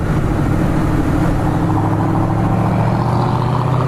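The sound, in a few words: car engine, a GT 800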